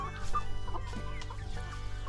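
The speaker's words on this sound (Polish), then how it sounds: "co tam słychać u kurczaków i u Stasia" Chickens cluck close by in a poultry yard, several soft overlapping clucks over a steady low hum.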